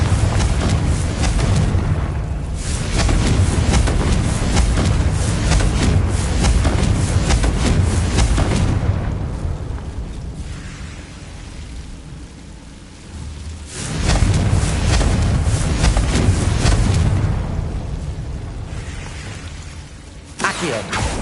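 Deep booming blasts from a Confringo fire spell in Hogwarts Legacy, heavy rumbling bursts that swell and fade in long waves, loud and close, with short quieter gaps between them.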